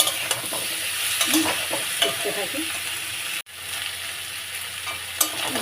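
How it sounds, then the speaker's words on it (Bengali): Raw banana pieces fry with shrimp in a pan, giving a steady close sizzle with stirring scrapes throughout, and a brief cut partway through. A voice speaks softly over the cooking. "এগুলো একসঙ্গে আমি ভেজে নিলাম চিংড়ি মাছের সঙ্গে।"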